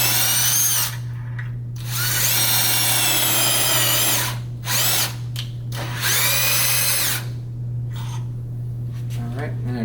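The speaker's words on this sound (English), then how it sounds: "my drill bit got a little bit loose" A power drill whines in repeated bursts, revving up and easing off as it bores into wood, over a constant low hum.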